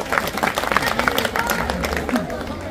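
Crowd applause at a Hindi political rally speech on the Delhi election, steady dense clapping throughout with a loud voice over it.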